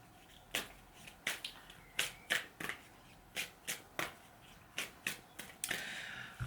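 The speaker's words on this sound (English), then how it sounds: "Let's pull some cards, guys." Playing cards are riffled and shuffled in a psychic card reading, a rapid run of close crisp snapping flutters in an uneven rhythm, ending in a longer soft riffle.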